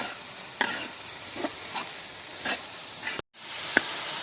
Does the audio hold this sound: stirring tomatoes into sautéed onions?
yes